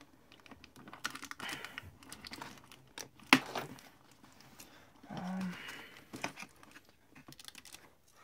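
Helmet packaging from a wearable Halo 5 Master Chief helmet being handled and opened, with close crinkling, tearing and rustling of plastic and cardboard, irregular taps and scrapes, moderately loud and with no talk.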